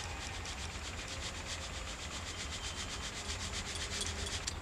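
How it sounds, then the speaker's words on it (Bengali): Powdered sugar being sifted through a sieve while baking a sponge cake, a steady close rhythmic rubbing and scraping that repeats evenly throughout with no talk. "চিনিটা আমার গুঁড়ো করা হয়ে গেছে এবার আমি চেলে নিচ্ছি"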